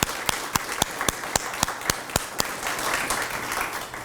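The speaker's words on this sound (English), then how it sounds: "Again, I'm gonna do a round of applause to recognize them." Sharp, regular claps ring out at a steady beat from one or a few people, close and loud, followed by a broader wash of crowd applause at a civic gathering.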